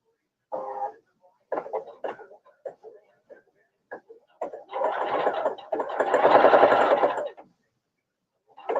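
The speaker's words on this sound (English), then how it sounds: "I'm gonna sew it again anyway to make sure that it's down and gonna stay" A sewing machine stitches binding onto a child's clear vinyl tote bag: a few short stuttering runs, then a longer steady burst of whirring stitches, close and moderately loud, with no talk.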